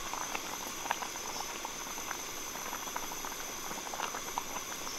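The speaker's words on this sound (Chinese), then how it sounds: "然后把我们的滑肉倒进来， 煮个三四分钟，让这个滑肉充分的吸收那个汤汁的味道哈" Sliced pork simmers in a pot of Sichuan-style spicy broth, a steady soft bubbling with small pops and patters throughout, moderately close and without talk.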